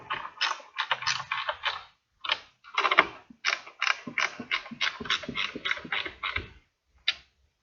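A hand ratchet clicks in quick bursts while tightening the fasteners on a GM dark taillight, with short pauses between runs and one final click after a gap, close and fairly quiet.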